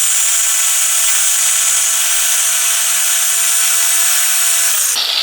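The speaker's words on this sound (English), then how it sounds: "You can probably turn a sander on" An electric sander runs steadily at close range for about five seconds, a loud, even broadband whir with a low hum under it, then cuts off abruptly near the end.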